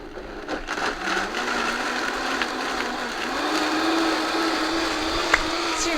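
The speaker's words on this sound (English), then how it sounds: "Turn on your blender, it's going to get loud." A blender whirs loudly at high speed through a chia pudding mixture, a constant dense roar with a slight rise in pitch as the motor settles, heard alone without talk.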